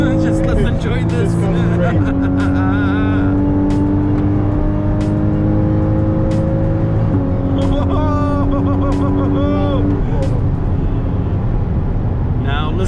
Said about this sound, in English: Now listen to these amazing downshifts.